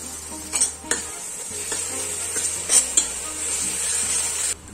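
Tomato puree going into a pan of frying ginger-garlic paste for pav bhaji, giving a steady close sizzle with a few scraping stirs and light utensil clinks, no talking.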